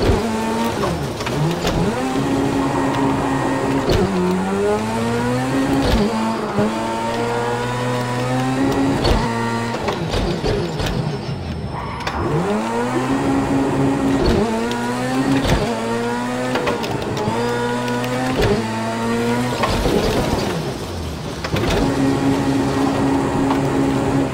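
A racing car engine screams up to its rev limiter in first gear, with rising whining pitch sweeps, stuttering limiter bounces and brief drops between gears, loud and continuous as it accelerates.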